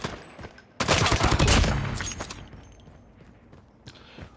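Rapid hip-fired bursts from a Holger LMG in a video game, a loud dense volley of gunfire that tails off over a few seconds, with a few faint clicks before it starts.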